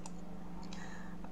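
A computer mouse gives a few faint, quick clicks, including a close pair, while a drawing is prepared in graphics software, all over a steady low hum.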